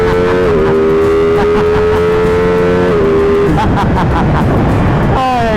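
A 2012 Ducati 1199 Panigale motorcycle revs up hard and loud, engine pitch climbing, dipping at a shift, then climbing again before a sharp drop, all up close and dominant.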